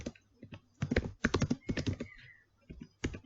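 Rapid bursts of typing on a computer keyboard while writing JavaScript code, close crisp key clicks in uneven clusters with short pauses between runs, no voices.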